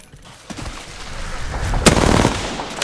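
Gunfire in Apex Legends crackles in scattered shots that build into a louder burst, with one sharp crack standing out amid a busy, rising clatter.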